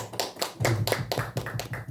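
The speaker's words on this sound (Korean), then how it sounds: "박수 한번 쳐줘요" Hands clap in a quick, steady rhythm in a church congregation, each clap sharp and distinct, about two seconds of repeated clapping with no talk.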